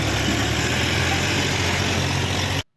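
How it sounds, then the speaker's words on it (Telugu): A tractor engine drones at a steady, loud level as the tractor pulls a stuck vehicle free. The even running sound carries on alone, then cuts off abruptly near the end. "చూసారు కదా ట్రాక్టర్తో ఎలా లాగించాము"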